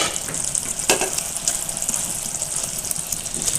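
Fish in a mustard and poppy seed sauce cooking in a pan gives a steady, soft sizzle and bubbling, with a few faint clinks of utensils, and no talk over it.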